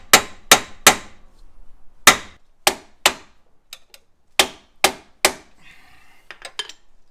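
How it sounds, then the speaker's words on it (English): Hammer blows on a chisel while working on a Jeep Grand Cherokee WJ Overland, a close series of sharp metallic strikes in irregular clusters, some loud and some lighter taps, ringing briefly with quiet gaps between. "we're chiseling away"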